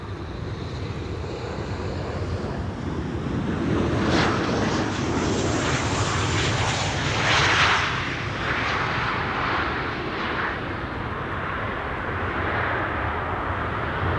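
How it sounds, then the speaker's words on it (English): A KLM Boeing 737-800 jet arriving at Amsterdam Schiphol Airport, its broad engine roar swelling and fading over about fourteen seconds at moderate distance, with wind buffeting the microphone. "This is KLM flight 1218 arriving from Stockholm. It's a 737-800."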